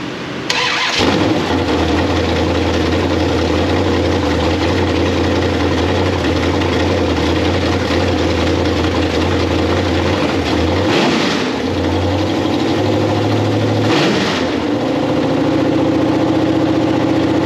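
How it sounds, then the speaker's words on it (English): A Mopar 349 stroker LA small-block V8, swapped from a car into a truck, cranks briefly and catches, then settles into a loud, steady idle with two short blips of revving. "So we will get ready to fire up."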